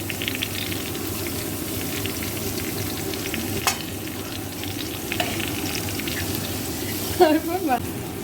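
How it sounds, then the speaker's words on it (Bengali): Chopped onion, garlic, capsicum, carrot, chilli and ginger sizzle steadily in a pan for veg momo filling, a continuous close frying hiss broken by a few soft stirring scrapes and clinks, louder near the end. "এতে আমি পেঁয়াজ কুচি, রসুন কুচি, ক্যাপসিকাম কুচি, গাজর, লঙ্কা, সমস্ত দিয়ে তারপর আদা কুচি দিয়ে নাড়াচাড়া করছি"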